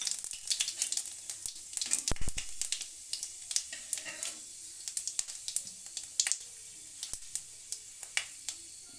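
Panch phoron spices crackle and sizzle in hot oil for a bitter gourd chorchori, with sharp irregular pops and spits over a soft frying hiss and one brief louder clatter.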